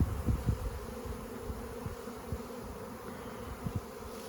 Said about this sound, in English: Bees have all worked down low rather than up high, and they're coming in pretty good masses.